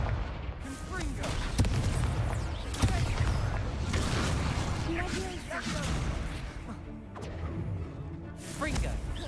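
A Confringo explosive spell cast in Hogwarts Legacy during a duel, with booming blasts, whooshes and crashes of combat throughout, overlapping game sounds and occasional voices.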